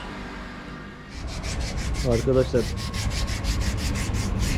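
Hand sanding on a part of a 1983 Mercedes-Benz W123 200 D diesel during maintenance: a steady rhythmic rasping rub repeating in quick even strokes, close and fairly loud, with a brief spoken word underneath.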